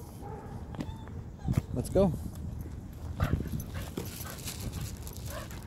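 An overstimulated dog at a dog park whines in a few brief, high, wavering whimpers amid outdoor ambience, while someone talks close by.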